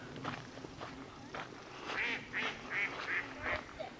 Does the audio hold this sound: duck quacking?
yes